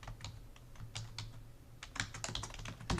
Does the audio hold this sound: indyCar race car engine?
no